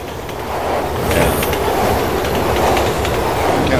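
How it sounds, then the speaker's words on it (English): A train rushes past in the video game Resident Evil 6, a loud, continuous roar with rattling clickety-clack and faint wheel squeal that holds steady throughout. "Okay, a train's coming."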